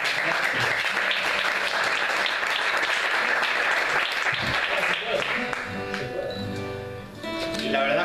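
A live audience applauds a pianist at a rock show, the clapping loud and sustained for several seconds before fading into tonal music and room noise near the end.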